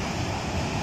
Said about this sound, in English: Such a momentous flow of water creates a dangerous undertow at the bottom of the falls.